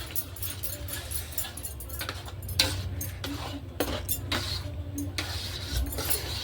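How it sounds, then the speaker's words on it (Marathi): A spoon scrapes and clinks against a steel pot as a mango and jaggery preserve with cardamom powder is stirred, the metallic taps irregular and close over a low background hum. "आता हे सगळं आपण मिक्स करून घेऊया"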